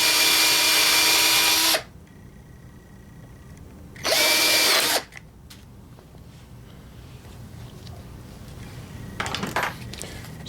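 Power drill boring out holes to 5mm in steel, two loud whining bursts of drilling separated by quiet pauses, with a brief fainter burst near the end.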